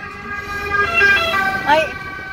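An ambulance siren wails with a rising and falling tone on a street in Marsala, Italy, moderately loud, while faint voices murmur underneath.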